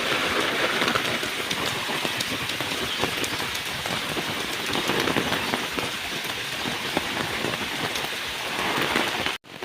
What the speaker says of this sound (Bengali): বৃষ্টির অরিজিনাল যে সাউন্ড, অরিজিনাল যে উষ্ণতা, সেটা উপভোগ করুন